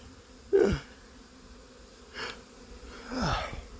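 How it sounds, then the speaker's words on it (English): Bees fly into a hive in mid-February, with short, close buzzing passes rising and fading against a quiet outdoor background, one louder burst followed by fainter ones. "you can see the bees coming in"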